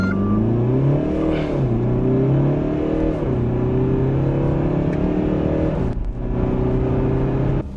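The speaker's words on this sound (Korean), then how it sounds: "엔진 소리가 제법 강하게 존재감을 드러내고 있죠." A Mercedes-Benz GLE 300d 4Matic diesel SUV accelerates hard from standstill toward 100 km/h, its engine droning loudly and steadily with rising pitch that drops at each gear change, heard from inside the cabin.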